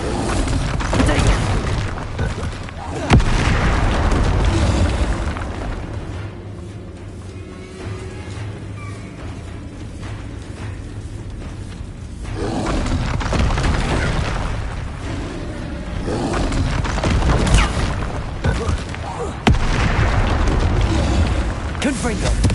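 Repeated spell explosions from Confringo and Bombarda in Hogwarts Legacy: loud booming bursts and sharp impacts recur through the clip, with a calmer stretch in the middle, all under steady talking.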